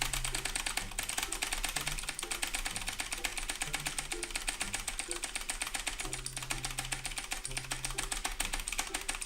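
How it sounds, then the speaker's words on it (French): A keyboard's space bar is hammered as fast as possible for ten seconds, producing a dense, rapid stream of sharp clicks, close and continuous, over a low background hum. "il va falloir tout simplement spammer la touche espace le plus rapidement possible en 10 secondes"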